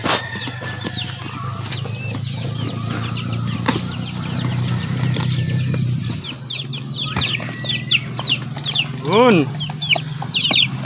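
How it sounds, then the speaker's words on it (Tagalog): Newly arrived Rhode Island Red chicks peep in quick, high chirps on a small farm, many overlapping near and loud, with clucking from adult chickens and some wing flapping; a brief voice is heard. "So ito na mga kapartial yung ating bagong sisiw"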